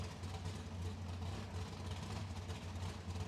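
A nitro funny car engine restarted and running at Palmyra Dragway drag strip, heard as a faint, distant, steady low rumble for a few seconds with no one talking.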